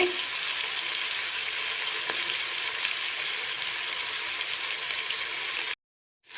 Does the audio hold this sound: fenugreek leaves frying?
yes